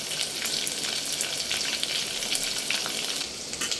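Cumin seeds sizzle and crackle steadily in hot oil in a pot while matka pohe is being cooked, a close, even frying hiss with no talk over it.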